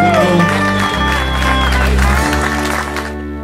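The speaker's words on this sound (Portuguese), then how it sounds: "uma salva de palmas aos melhores do Metropolitano" An audience cheers and claps for athletes at the Metropolitano final in Cubatão, heard as a steady crowd wash under loud tonal music with a prominent bass line.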